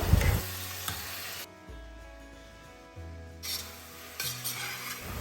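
Onion, ginger, green chili, curry leaves and tomato stirred in coconut oil, with soft sizzling and intermittent scraping of a spoon against the pan, a quiet stretch in the middle, and no talking.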